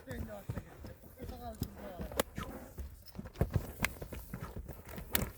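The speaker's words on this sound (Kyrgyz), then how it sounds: "Атты көрдүңүздөр." A tall horse's hooves clip-clop in a steady, uneven series of sharp thuds nearby while people talk over them.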